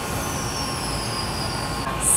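A Series 815 local electric train on a Kyoto line rolls past nearby with a steady rumbling hum and high whining tones, growing a little louder near the end.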